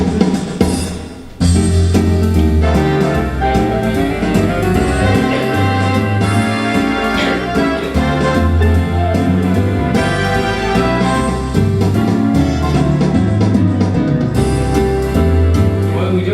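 Lowrey organ playing a full big-band style arrangement, loud and continuous with sustained chords, walking bass and rhythm accompaniment.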